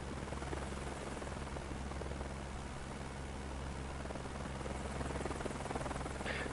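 A helicopter in the Microsoft Flight Simulator 2024 game gives off a steady, even rotor and turbine drone that holds at a constant level throughout, with no voices over it.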